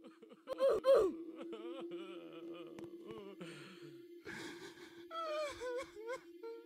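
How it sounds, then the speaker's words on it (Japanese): A wavering, crying moan from a voice in a Roblox horror game rises and falls in sobbing bursts, quiet and eerie, with a brief laugh-like gasp early on. "泣いてるんだけど。"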